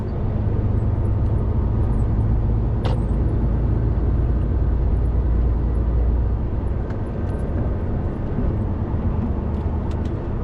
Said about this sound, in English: Rush hour traffic, Birmingham.